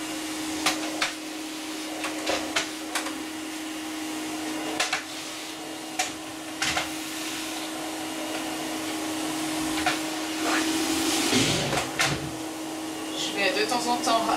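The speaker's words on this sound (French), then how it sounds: "je vais commencer à bouger le manche de l'aspirateur, donc lui fait un petit peu plus de bruit que le balai" A vacuum cleaner runs steadily nearby with a constant whine while its handle is moved around near a puppy, adding scattered knocks and clicks, and a voice speaks quietly over the hum.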